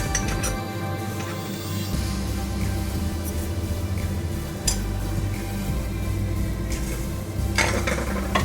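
Chicken mandi being stirred in a pot, with a steady low cooking hiss and scattered clinks and scrapes of a utensil against the metal, close up and without talk.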